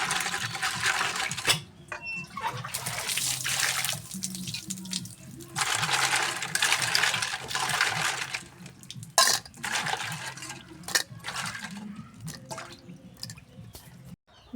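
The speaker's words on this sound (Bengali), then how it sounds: "ভালো করে কাঁকড়াগুলোকে ধুয়ে নেব।" Crabs being washed in water in a home kitchen, with irregular splashing, dripping and wet squishing, sometimes steady and sometimes broken by short pauses and small clinks.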